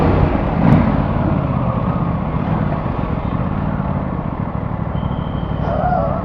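Aprilia RS457 motorcycle engine running steadily and loud nearby, a continuous rumbling idle with a slight rise near the start and faint voices underneath.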